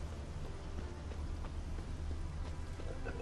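Soft, rhythmic clip-clop of horse hooves trotting at a steady pace in The Witcher 3: Wild Hunt, fairly quiet, with a low rumbling background and no talking.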